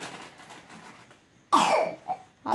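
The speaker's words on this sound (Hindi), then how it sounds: "खांसी हो गया है इसको।" One harsh, close cough bursts out after a stretch of quiet, followed by a smaller hack.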